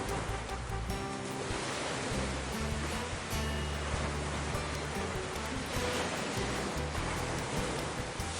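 Steady, full-bodied ocean surf washes onto a beach in Penang, Malaysia, a continuous near roar of breaking waves with no voices.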